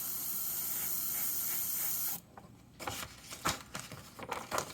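A steady airbrush hiss sprays paint continuously for about two seconds, then cuts off, followed by several short, softer bursts of spray.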